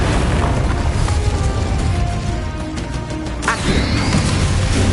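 Bombarda and Incendio spell blasts in the Hogwarts Legacy video game, loud booming explosive bursts and fiery roars layered over busy game combat noise, with a sharp crack near the end.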